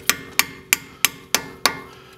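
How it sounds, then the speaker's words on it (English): Hammer striking a pin through the CV shaft of a 2002–2006 Honda CR-V, six sharp metallic blows at an even rhythm, each with a short ring, close and alone with no talk. "We just hammer it in"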